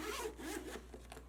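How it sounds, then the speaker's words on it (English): A close, quiet zipper on a Nintendo Switch 2 travel case pulled open in one quick, smooth run lasting about a second. "the zipper is great too. It feels really nice and smooth when opening it and closing it."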